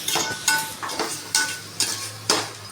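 Mutton fries with rock salt in a pan for sambar, a steady sizzle broken by regular, rhythmic scrapes of a spoon stirring the meat, close and fairly loud.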